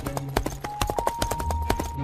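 Cartoon sound effect of a horse's hooves clip-clopping as a king rides to a village, a steady rhythmic trot of crisp clops, close and clear over a light music bed, with no talk.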